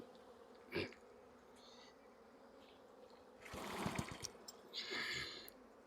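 Honey bees buzz close by in a dense humming swarm around hive frames, swelling louder in short bursts, with occasional knocks of wooden frames being handled.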